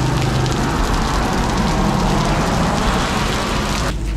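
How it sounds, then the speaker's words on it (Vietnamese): Heavy rain pours steadily in a street in Saigon, Vietnam, a loud, dense, continuous hiss of downpour on surfaces with no pause throughout. "Cả nhà cũng thấy mưa nè."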